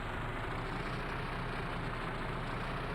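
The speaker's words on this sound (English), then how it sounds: "I like the engine sound of the JCB" A JCB engine running steadily in the Truck and Logistics Simulator video game, a faint constant low rumble with broadband hum and no talking.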